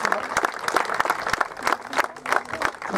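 Brief applause from an outdoor ceremonial gathering honouring a salt bearer, a scattered, moderately loud clatter of hands clapping for a few seconds.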